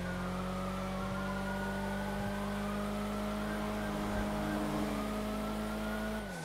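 Steady engine drone from a modded Nissan GT-R R35 driven in a video game police chase, holding a sustained tone with gear shifts and a slight pitch rise near the end, loud and continuous throughout.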